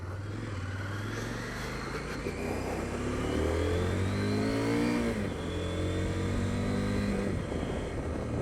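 A CF Moto 800 MT adventure motorcycle accelerates on the road, its engine note climbing steadily through the revs and holding near and loud, with wind noise over it.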